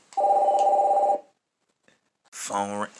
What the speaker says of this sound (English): it's phone ringing.